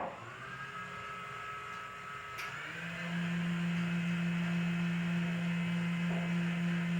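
An electric stand mixer whirs steadily while whipping a cream cheese batter for cloud bread, its motor shifting to a louder, higher-pitched drone partway through, with a faint click at the change; no voices.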